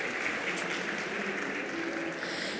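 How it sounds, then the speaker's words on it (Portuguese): Audience clapping after a talk at an event, a steady moderate patter of many hands, fairly distant and even throughout. "Então, palmas, por favor, mais uma vez para o Xavier"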